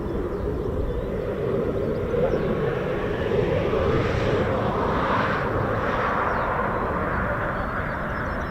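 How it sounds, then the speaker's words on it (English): Lockheed F-35B stealth fighter jets operating overhead at an RAF base, a sustained broad roaring jet rumble that swells slightly in the middle, steady and fairly distant. "our F-35Bs just operating over the block"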